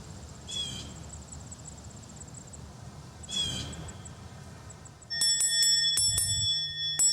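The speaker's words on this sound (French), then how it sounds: "Sœur Maryse sonne la cloche pour le réveil." A bell at a Carmelite convent in Trois-Rivières is rung at dawn for the morning wake-up, several bright, ringing strikes arriving late after quiet ambience with faint insect and bird chirps.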